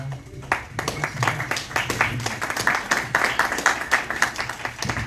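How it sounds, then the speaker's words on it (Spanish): An audience at a university history talk in Arequipa claps to welcome a speaker, with a crowd of fairly close hand claps and some sharp individual ones keeping up throughout, with faint voices mixed in. "recibamos con palmas a nuestro"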